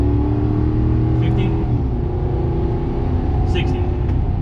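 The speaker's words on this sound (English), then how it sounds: "I'll give it the beans here in a second, and it's a little bit loud, which is kind of cool because the V8 sounds good" A modified first-generation Toyota Tundra pickup with a V8 rumbles loudly and steadily up close, its low engine drone holding nearly level and swelling only slightly, with no voices over it.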